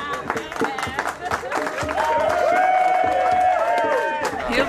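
A crowd of fans, friends and press in an airport arrival hall greets Olympic champion cyclist Anna van der Breggen. They cheer loudly with steady applause and clapping, rising into a sustained whooping cheer under a speaking voice.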